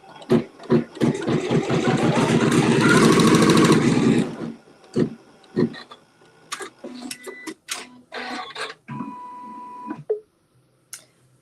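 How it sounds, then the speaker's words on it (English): A sewing machine stitches a quilt seam with neutral thread, a steady mechanical run of about four seconds, then short bursts and clicks as the fabric is handled, close and moderately loud. "So I'm going to stitch the seam."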